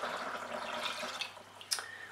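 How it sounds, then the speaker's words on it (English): Water poured from a container into a blender jar while making soy milk, a steady close splashing stream that thins out, followed by a brief clink near the end. "now I'm gonna add enough water to make up to 2 liters"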